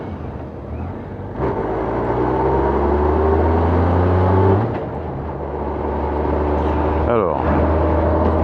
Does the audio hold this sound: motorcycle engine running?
yes